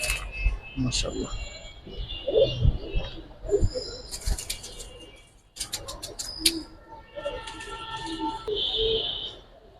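Big-sized Afsan bagha makhra giribaz pigeons cooing and fluttering close by, with soft repeated coos and wing flaps breaking up the scene, while someone talks over them.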